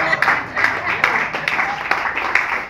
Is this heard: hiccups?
no